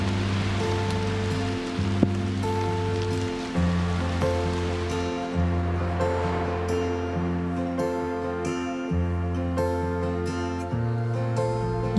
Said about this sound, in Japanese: 雨を眺めながら静かに過ごそうと思います。